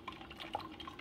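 A Mainstays 12-cup programmable coffee maker drips hot water onto coffee grounds, a soft close-up patter of small irregular drips and gurgles, quiet and continuous.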